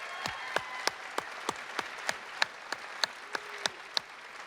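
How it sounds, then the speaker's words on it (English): At a graduation recognition ceremony for an art, architecture and design school, a single pair of hands claps clearly and steadily about fourteen times. The claps ring sharp and close in a quiet room. "Actually, could we give Claire one more round of applause?"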